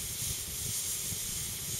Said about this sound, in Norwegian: så koker det vann ut av stokken. Du kan høre det på susen også.